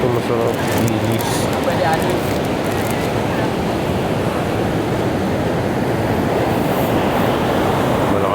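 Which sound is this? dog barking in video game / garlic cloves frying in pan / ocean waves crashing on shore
ocean waves crashing on shore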